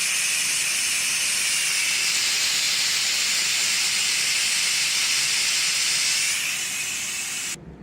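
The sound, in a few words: steam releasing from electric pressure cooker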